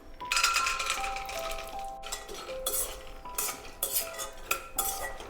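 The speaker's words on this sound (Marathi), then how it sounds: "आपल्याला असं एक एक करून सगळे ड्रायफ्रूट्स तुपामध्ये परतून घ्यायचे आहेत" Spoon stirring almonds as they roast in ghee in a kadhai gives repeated metallic clinks and scrapes against the pan, a steady close rhythm, with no talking.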